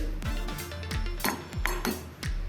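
A spoon or spatula stirs powdered sugar into roasted vermicelli in a pan, giving steady rhythmic scrapes and clinks against the metal about every half second, close up and with no talking.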